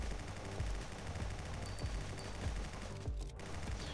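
Rapid gunfire crackles in Guncraft Survivors as a dense stream of overlapping shots with sharp repeated bursts, loud and sustained for several seconds, with no talk over it.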